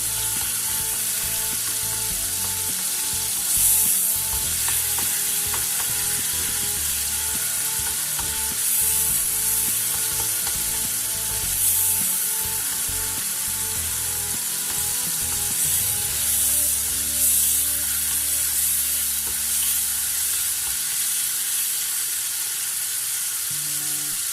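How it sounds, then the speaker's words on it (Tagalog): Loud, constant sizzling of tomatoes sautéing in a pan, with occasional scrapes and clatters of stirring. "nakita natin medyo nag-sote na yung kamatis"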